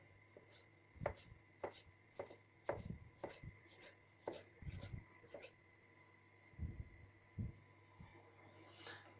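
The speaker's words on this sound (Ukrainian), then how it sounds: "І нарізаємо помідорку ось такими півкільцями" Knife slices a tomato into half-rings on a cutting board in a steady series of about a dozen crisp, close taps, with a pause near the end.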